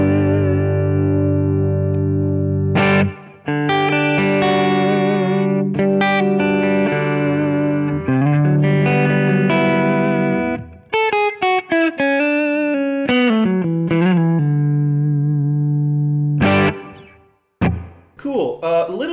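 A clean electric guitar on a PRS S2 Standard 22, neck humbucker with Seymour Duncan 59 pickups, plays a series of chords and single notes, warm and a little bassy, ringing out with sustained, smooth tone.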